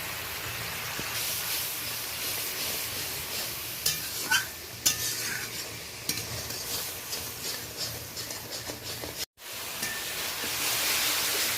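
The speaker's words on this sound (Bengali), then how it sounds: "মশলাটা তেল ছেড়ে দিয়েছে, ভালোভাবে কষানো হয়ে গেছে।" Ground spice masala fries in oil in a pan while being stirred, a continuous sizzle with intermittent scraping and clinks of a utensil, briefly cutting out near the end before the frying resumes.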